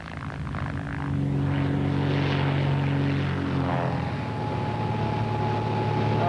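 A propeller airplane engine drones steadily and loudly, with a strong low hum and a slight pitch shift partway through, continuous with no voices.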